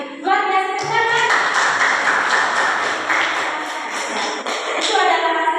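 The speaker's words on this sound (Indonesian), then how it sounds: "Luar biasa, tepuk tangan." Hand clapping in a classroom discussion session, a loud, close stretch of fairly dense claps that carries on for several seconds, with a steady tonal sound running underneath and a voice briefly at the start and end.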